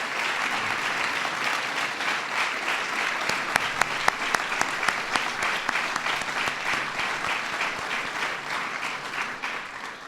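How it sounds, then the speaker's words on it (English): Steady, dense audience applause for standing commission members at an award ceremony, sustained for about ten seconds with a few sharper individual claps near the front, then tapering slightly at the end. "Will you please stand and let us give you a round of applause?"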